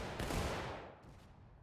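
A single musket volley cracks out loud and close in a War of Rights battle, a dense roar of many shots fired at once that rolls off into a fading, echoing tail.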